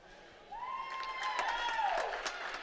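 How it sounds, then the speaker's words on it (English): Crowd cheering and applause echo through a high school pool during a swimming and diving meet on senior recognition night, with a steady, moderately loud roar and a rising whistle-like shout near the start. "We hear the cheering, encouraged by the captain Ruggiero."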